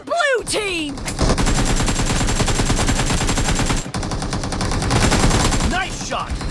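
Sustained rapid automatic gunfire in a team-based video game match rattles loudly and continuously for several seconds, broken by a short pause, with brief voice-like sounds at the start and end.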